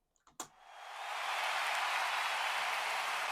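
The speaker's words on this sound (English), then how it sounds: "I also have this KSMR Crowd effect in the beginning" A KSMR crowd sound effect in a music track rises from near silence after a few sharp clicks into a broad, dense roar of cheering and clapping that swells and then holds steady, loud and wide.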